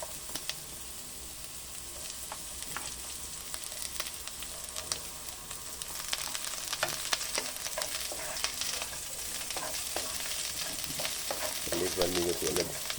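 Onion frying in a pan with ginger for pink salmon sinigang sa miso, a soft continuous sizzle with crackles and stirring clicks that grows slightly louder toward the end.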